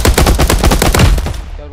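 Rapid automatic gunfire in the game Mini Royale: a loud, close burst of about a dozen quick shots that tails off sharply at the end.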